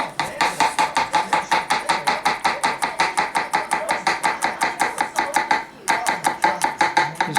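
A kitchen knife chops ingredients for a spicy pizza sauce into very thin pieces, in rapid, even strokes on a cutting board, close and crisp, with one brief pause before the chopping resumes.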